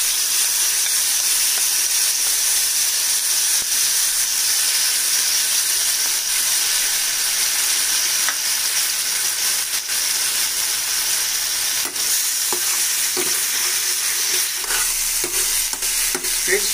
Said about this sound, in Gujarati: હવે એમાં પહેલાં સૌથી પહેલાં આપણે ભાજી એડ કરશું